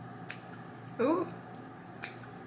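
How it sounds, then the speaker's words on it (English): Scissors snip through wig lace a few times with soft, crisp cuts spaced about a second apart, and a brief voice sounds in the middle. "I'm trying to like drag my scissors across while I'm cutting this"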